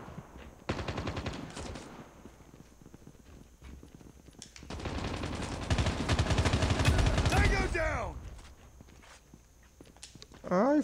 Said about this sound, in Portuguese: Vai rajando, ó. Controla o recoil, ó. Rajando, ó. Como se seja uma arma automática